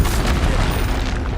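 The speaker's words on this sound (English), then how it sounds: "Expelliarmus!" Expelliarmus spell cast in the video game Hogwarts Legacy, heard as a loud, dense booming burst sustained across the whole short moment, close and forceful, with no voices over it.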